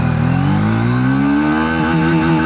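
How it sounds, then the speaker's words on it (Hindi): A Triumph Speed 400 motorcycle with a 349cc single engine pulls hard in first gear, its loud, steady engine note climbing in pitch throughout, close by and alone with no talk. "बाइक का इनिशियल एक्सेलरेशन बहुत बढ़िया लग रहा है यार।"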